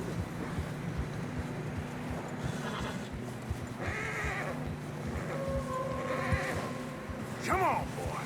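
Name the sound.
horses walking in snow, from video game Red Dead Redemption 2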